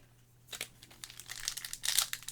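Crinkling and tearing of a Flesh and Blood trading card booster pack wrapper being opened up close, starting quietly then building into a run of sharp, loud crackles and rips toward the end.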